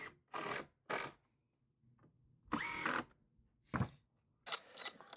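A power drill drives 50mm screws diagonally into wooden planter boards, sounding in four loud, close whirring bursts of about half a second each, with quiet gaps between them.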